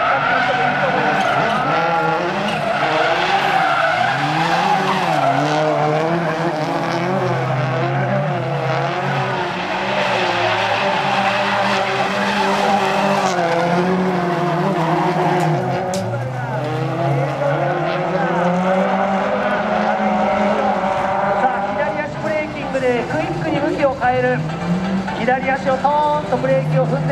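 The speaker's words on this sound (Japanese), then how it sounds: "クイックにマシンの向きを変えてから豪快にアクセルを踏んでいき、アクセルコントロールで正常円を作っています。" A rally car engine revs hard while its tyres squeal and skid without a break as it drifts in circles during a demo run at Motorsport Japan 2018 in Odaiba, loud and close, with a commentator talking over it.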